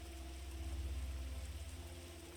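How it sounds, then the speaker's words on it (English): Steady rain patters against a window glass, a soft continuous wash with a low rumbling undertone and no distinct individual drops standing out. "listening to the gentle pitter-patter of the raindrops on the window"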